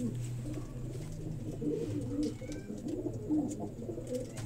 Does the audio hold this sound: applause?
no